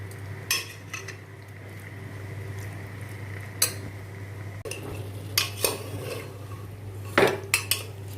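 Chicken and tomatoes stirred in a cooker without oil or water, a few clinking and scraping spoon strikes against the metal pot over a steady low hum, close.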